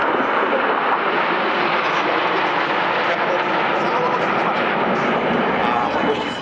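An Su-22 fighter-bomber jet passes fast overhead at the Radom Airshow 2015, producing a loud, continuous roaring rush that fills the whole moment before easing slightly at the end.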